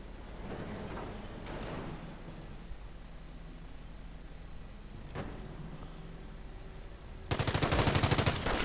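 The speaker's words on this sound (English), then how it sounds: "But the heavy machine gun does not give up as the 40 Jägers move in." A heavy machine gun in a strategy video game battle rips out a loud, rapid burst near the end, after a stretch of quieter battlefield rumble and scattered distant shots.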